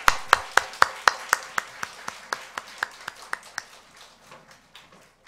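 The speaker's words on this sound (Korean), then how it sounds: "우리 안수 받으신 두 분 우리 박수로 축복했으면 좋겠습니다." A Korean church congregation claps in unison at a Friday service to bless two newly ordained people: a sharp, evenly spaced run of about twenty claps, strong at first and gradually fading into softer, scattered claps.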